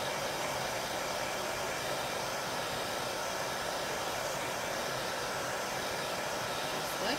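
A hair dryer blows over chalk paste on an Easter craft project, a steady close hissing whoosh of airflow running continuously and alone for several seconds.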